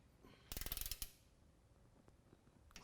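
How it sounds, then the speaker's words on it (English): A torque wrench tightening lift kit bolts to 100 foot-pounds on a 2017 Chevrolet Silverado 2500 HD, a quick burst of close ratcheting clicks, then a sharp click and quiet faint taps. "now we'll torque these down"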